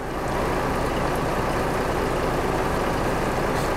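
A Volvo truck engine idling in Euro Truck Simulator 2, a continuous, loud low rumble that holds steady without variation.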